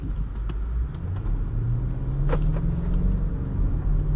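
A 2017 BMW X5 xDrive50i in sport mode pulls away, its engine rising in a smooth climbing drone over constant road rumble, heard from inside the cabin.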